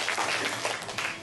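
Brief burst of audience clapping greets a school principal introduced at a township music-contest award ceremony, a short, moderately loud patter of many hands with no voices.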